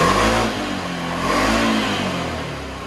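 A Cadillac CTS engine fitted with a new air filter revs hard, a loud continuous roar that swells and eases slightly across a few seconds with no voices.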